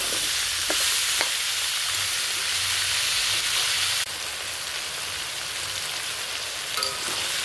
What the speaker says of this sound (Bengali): সবজিগুলো ভালো করে ভেজে নেব। সবজি দিয়েছি মিষ্টি কুমড়া, পেঁপে, পটল, কাঁঠালের বিচি আর আলু।